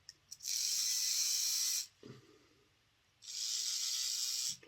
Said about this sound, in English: Never even tested this motor.